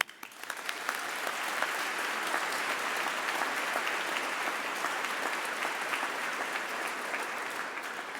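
An audience at a university graduation ceremony breaks into applause, rising quickly and holding as a dense, even roar of clapping, fairly close and with no talk over it.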